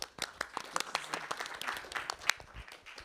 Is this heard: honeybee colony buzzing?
no